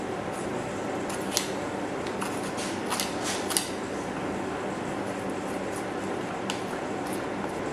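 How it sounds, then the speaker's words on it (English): A butcher's knife slices lamb meat away from the scapula bone in a demonstration, giving a steady close scraping and rustling with small clicks, continuous and without talk. "we're going to cut towards the scapula and butterfly that open."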